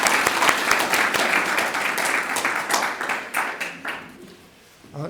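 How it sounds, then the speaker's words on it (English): Round of applause for presenters at a community groundwater forum, a room of people clapping with crisp distinct claps that fade and thin out over about five seconds. "a round of applause"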